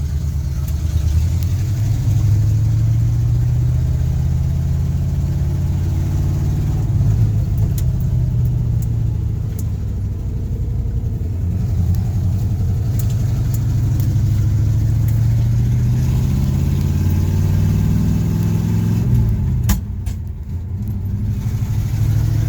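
A 1974 Chevrolet C10 pickup truck drives along a road, its engine droning steadily with rising and falling revs as it works through the gears, including a rough second-gear shift, loud and close throughout with no talk.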